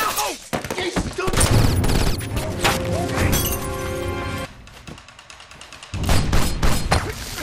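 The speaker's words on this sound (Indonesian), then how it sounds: "Begitu John melepaskan tembakan balasan" Loud bursts of gunfire crack in rapid succession, mixed with crashing and shattering, with a brief lull before another volley.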